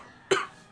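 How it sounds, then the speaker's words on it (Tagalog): A single short cough from a person, sharp and close, standing out against a quiet background. "Inuubo pa nga ako."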